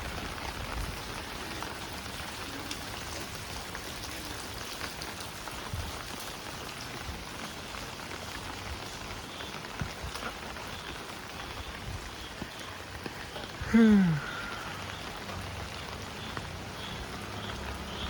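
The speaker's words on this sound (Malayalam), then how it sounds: "ഇതാണ് മഴയുടെ ഫുട്ടേജ്" Steady night rain patters on surfaces all around, a continuous hiss of drops; briefly a short rising whistle-like tone cuts through near the end.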